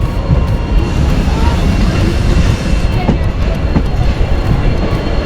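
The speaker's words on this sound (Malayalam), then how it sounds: "ഇവിടെ ഒരു ട്രെയിൻ കിടപ്പുണ്ട്." A train on the Subrahmanya–Mangalore line near the Bantwal crossing and the Netravati river makes a loud, continuous rumble of rolling wheels and rail noise, heard from close by with faint rhythmic clatter.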